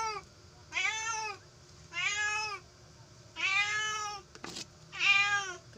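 A cat meows four times in slow succession, each call clear and fairly close, with a brief clatter between the last two.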